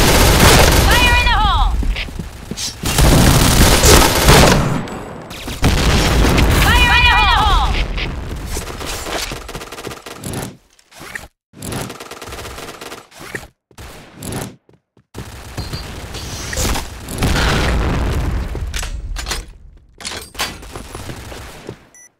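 Rapid gunfire bursts and booming blasts fill a round of the Point Blank shooting game, with dense firing spells broken by short gaps and a sudden explosion; a voice calls out over the action.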